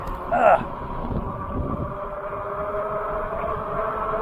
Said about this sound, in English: Whoa, this wind is crazy.